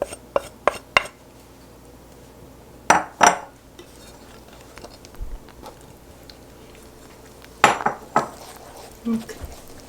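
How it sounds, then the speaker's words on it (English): Dry cake ingredients being mixed in a bowl, with sharp intermittent clinks and taps of utensils against the bowl in scattered bursts over quiet room noise. "Grandpa's mixing all the dry ingredients together, and then he'll be adding it to the bowl"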